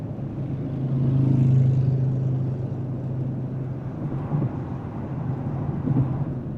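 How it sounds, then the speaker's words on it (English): A loud engine rumble swells and then fades as a motorcycle passes, heard over steady road and cabin noise inside a Ferrari Purosangue. "I had a loud motorcycle roll by"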